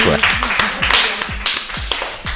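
A talk show studio audience claps in a loose rhythm of distinct, punchy hand strikes, near and fairly loud, while voices murmur and react underneath.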